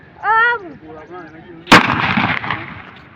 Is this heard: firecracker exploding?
yes